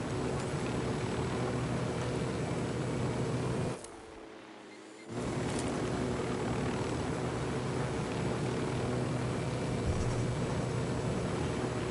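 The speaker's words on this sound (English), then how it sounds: "Drone going up." A drone lifts off in a PS4 video game, giving a steady propeller buzz and hum that briefly drops out partway through, then resumes evenly, with no voices.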